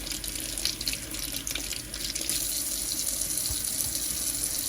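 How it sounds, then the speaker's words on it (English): Running water from a sink tap splashes steadily over tomatoes being rinsed by hand, a close continuous rush with small shifts in flow and no talking. "I'm going to be washing my tomatoes, and same thing, just rinsing them out."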